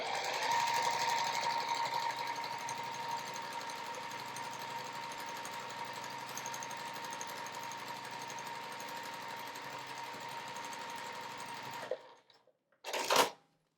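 A sewing machine runs in one long continuous stretch of rapid stitching as strips are joined on a quilt block, steady and close, then stops abruptly, followed by a brief clatter.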